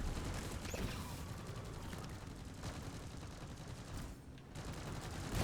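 Turrets in Deep Rock Galactic fire continuous rapid bursts, a dense mechanical rattle of gunfire that stays steady and fairly faint throughout, with no talking.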